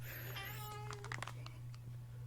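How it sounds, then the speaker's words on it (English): A leopard gecko chirps as it plays back from a video, a short high sliding call with a meow-like quality, followed by a few faint clicks over a constant low hum. "I was watching a video of a leopard gecko chirping"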